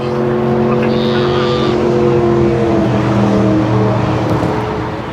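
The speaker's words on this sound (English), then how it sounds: "this is right next to the freeway, so that, of course, the mic's going to pick that up." Freeway traffic beside an outdoor cars-and-coffee show, a dense continuous roar of passing vehicles with steady engine drone and tire noise, loud and unbroken throughout.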